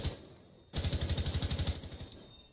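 Rapid automatic gunfire rattles out in a steady, even burst lasting about two seconds in a Rainbow Six Siege pro league match. A brief, quieter stretch of game ambience comes before it.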